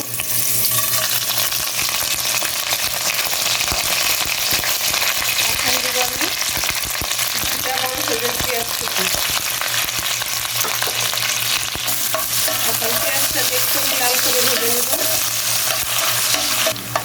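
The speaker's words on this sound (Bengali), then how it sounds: "এই যে আমার পেঁয়াজটা ভাজা হয়ে গেল" Sliced onion and whole garam masala (cinnamon, black peppercorns, cloves, cardamom, bay leaves) fry in hot oil, a loud steady sizzle running throughout with repeated scraping stirs.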